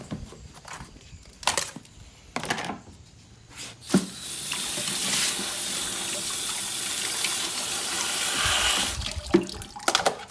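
Water gushes from a tap into a cooler for several seconds, a loud steady broadband rush that starts abruptly and then cuts off, with a few brief knocks and clatters before and after.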